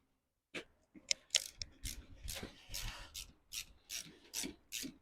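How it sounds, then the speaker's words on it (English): Ratchet and spanner clicking while undoing the top mount nut on a Mk3 Ford Mondeo's front strut, a run of quick rasping bursts in an irregular rhythm, close by and fairly quiet. "I'm going to have to use my ratchet and spanner to undo the top mount nut"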